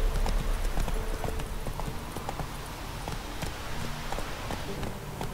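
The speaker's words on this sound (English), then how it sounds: "Whoa there, Roach." Horse hooves gallop in The Witcher 3, a steady rapid clip-clop rhythm running throughout, close and loud against the game's ambient background.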